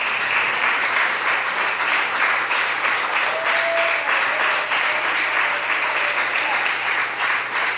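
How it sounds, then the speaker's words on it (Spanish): A church congregation applauds steadily, a dense sustained wash of many hands clapping with faint voices underneath. "Denle un fuerte aplauso al Señor"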